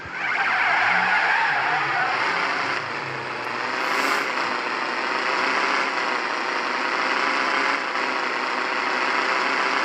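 A Mercedes-Benz SLS AMG GTR skids in the driving game Car Simulator 2, with a loud, sustained tyre screech over engine noise lasting nearly ten seconds, alone without talk.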